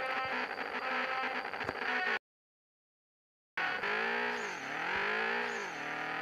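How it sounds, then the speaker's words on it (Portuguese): A Chevrolet Opala pulls a wheelie at high speed in the video game Estilo BR, its engine and transmission fully upgraded. The motor holds a high, strained whine that dips and climbs again, and the sound cuts out briefly partway through. "Vou mostrar pra vocês aqui como é que ele tá empinando, beleza?"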